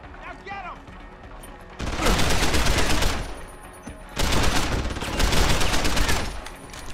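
Sustained automatic gunfire bursts from the video game Deus Ex: Human Revolution, two loud dense volleys with a pause between, heard without talk.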